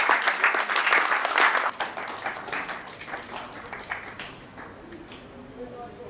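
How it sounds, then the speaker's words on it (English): Audience clapping at an alumni formalization ceremony, steady dense applause that eases slightly partway through and continues at a lower level to the end. "Please keep clapping for him."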